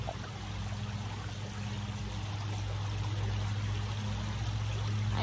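River water flows steadily in the mountains, a constant close rushing wash that holds at an even loudness throughout, with no voices.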